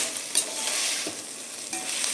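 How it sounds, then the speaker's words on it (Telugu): Vegetables for paneer biryani frying in hot oil, a steady close sizzle with a few soft scrapes of stirring, no voices. "మాడిపోకుండా ఫ్రై చేసుకొని రిమైనింగ్ వెజ్జెస్ కూడా వేసుకొని ఫ్రై చేసుకోవాలి."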